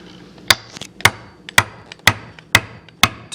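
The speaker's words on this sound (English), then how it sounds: "I'm going to put the spline in. I'm going to give it one little whack." Tapping a wooden spline into a cabinet joint with an old screwdriver as a mallet gives six sharp, evenly spaced taps, close and crisp, with faint lighter knocks between them.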